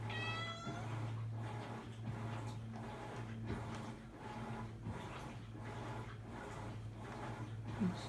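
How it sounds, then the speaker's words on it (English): A house cat meowing at a door, a string of repeated drawn-out meows coming at a steady rhythm, close and clear over a constant low hum, with no speech. "Phoenix doesn't like when Zero meows at the door"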